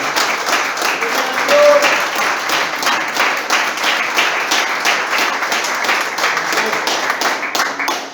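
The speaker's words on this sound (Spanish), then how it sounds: "Aplausos." A church congregation breaks into sustained applause, a loud, even patter of many hands clapping throughout, with a brief vocal cry near the start and some voices faintly beneath.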